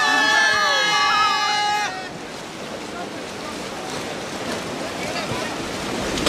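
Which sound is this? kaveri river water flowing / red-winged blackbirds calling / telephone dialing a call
kaveri river water flowing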